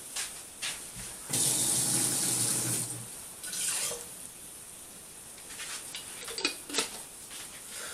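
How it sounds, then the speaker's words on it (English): Tap water runs into a cooking pot of pasta sauce in a kitchen, a bright splashing gush of about two seconds after a few faint clinks, followed by quieter handling sounds. "I'm going to put some water in here."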